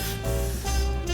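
A steady aerosol spray of Got to Be Glued wig glue hisses continuously at close range along a lace front wig's hairline, a sustained broadband rush with no talking.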